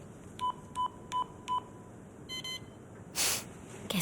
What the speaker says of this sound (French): Je dois entrer le code. Sinon, l'alarme sonnera.